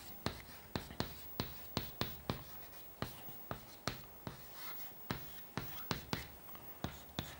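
A math solution is written out by hand, with quiet, close scratchy strokes and sharp taps repeating in an irregular but steady rhythm.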